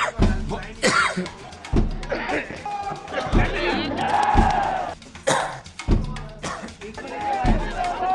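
Repeated harsh coughing bursts from a politician, loud and close, mixed with crowd murmur and some speech in between.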